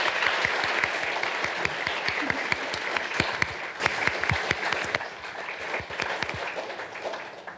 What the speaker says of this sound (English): Could I have a round of applause for the three of them